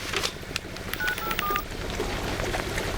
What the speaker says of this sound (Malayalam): ഞാൻ വേണേ ഫോൺ വിളിച്ചു തരാം